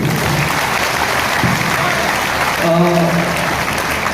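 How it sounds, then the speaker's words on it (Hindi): Loud applause from an audience at a business networking gathering, a steady dense wash of clapping that carries on throughout, with a brief tonal sound rising near the end. "जोरदार तालियों के बीच।"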